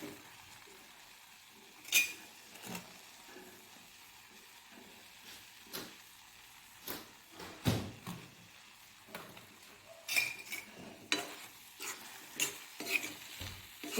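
Taro pitika being stirred in a pan with raw mustard oil, with scattered scraping and clinking strokes every second or so over a faint low sizzle, close and fairly quiet.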